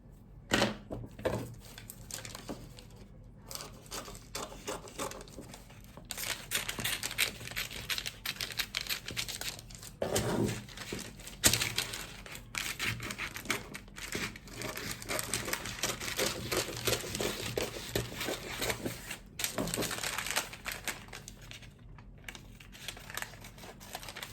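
Scissors cutting through a paper sewing pattern for a pajama shirt, a long run of close crisp snips and paper rustles in uneven bursts with short pauses, no talking.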